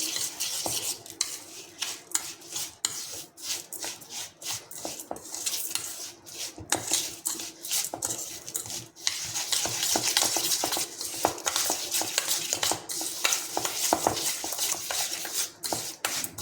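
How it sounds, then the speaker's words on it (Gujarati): Spices, oil and salt being stirred together in a bowl for soft Gujarati fulwadi, giving a steady scraping, clinking rattle of a spoon against the bowl that runs continuously and fairly close, with no talk. "આ બધા જ મસાલાને આપણે સારી રીતે મિક્સ કરી લઈશું"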